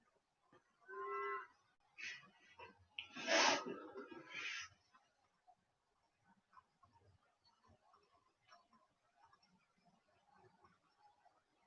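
Several cow moos sound at moderate distance, a few drawn-out calls close together, followed by quieter rural background.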